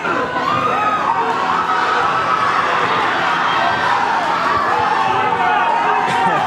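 A dense, steady crowd roar of cheering and chatter from spectators at a fast running race, filling the whole stretch at constant loudness.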